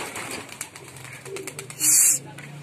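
Pigeons that have just been shooed coo nearby, with a short flurry of wing flaps partway through.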